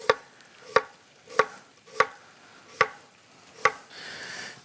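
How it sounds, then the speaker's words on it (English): A knife cuts potatoes into quarter-inch slices on a cutting board, with six crisp, evenly spaced chops close by, followed by a short soft shuffle. "I cut them first, and then just come through here and do about a 1/4 inch slice"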